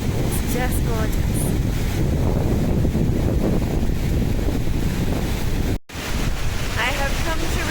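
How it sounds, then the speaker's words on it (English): A river flowing at the bottom of Kings Canyon, with a steady, loud broadband rush of water and wind buffeting the microphone throughout, a brief dropout near the end, and no talking. "So I made it down to the bottom of Kings Canyon and this beautiful river."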